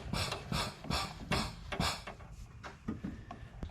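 Mighty Mite hand extractor pumped repeatedly to draw vacuum and pull brake fluid from a 2006 Toyota Tundra SR5, a series of close, rhythmic mechanical strokes and clicks that slow and soften toward the end.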